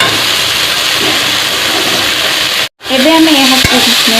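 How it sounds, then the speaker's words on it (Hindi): Tomatoes with salt frying and being stirred in a pan for a chicken curry, a loud, steady sizzle and scraping throughout, cut by a brief dropout, with a voice speaking faintly near the end. "यहाँ पर आमे टमाटो को मेल्ट करि नेबा। आमे स्वाद अनुसार लूण पकाई नेबा।"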